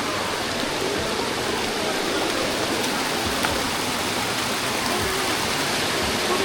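Steady broadband rush of a river stream flowing near a waterfall, continuous and fairly loud with no breaks, heard alone without voices.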